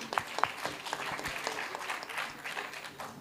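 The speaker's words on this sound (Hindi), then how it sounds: "एक बार तालीम से स्वागत कर दो उनको।" A crowd at a poetry gathering in Vrindavan claps steadily, a dense patter of many hands with a few sharper claps standing out, close and sustained.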